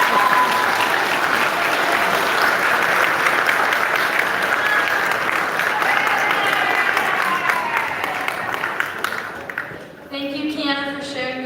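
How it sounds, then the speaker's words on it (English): An audience at a live graduation-class evening program claps in a sustained, dense round of applause that fades near the end, where a voice begins speaking. "You can applaud"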